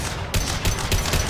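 Automatic Avenger assault rifle in Mass Effect Legendary Edition fired in short bursts, four punchy evenly spaced shots over a steady low background hum, close and loud, no talking.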